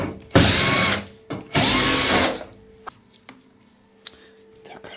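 A cordless screwdriver whirs in two loud, close bursts while backing out the rear panel bolts of a Bosch Series 6 washing machine, followed by scattered clicks and clinks of loose parts.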